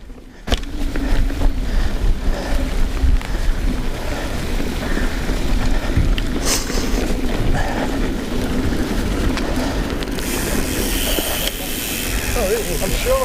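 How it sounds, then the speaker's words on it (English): Steady, loud wind roar and buffeting rush past while riding a Yeti SB6 mountain bike fast downhill; the noise fills the whole stretch without letup. "Well, tears in my eyes from the wind."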